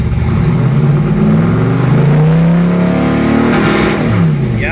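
A car engine fitted with Pertronix ignition, not yet fully warmed up, revs loudly up toward 5,000 rpm close by, its roar rising and holding steady with a strong deep rumble throughout.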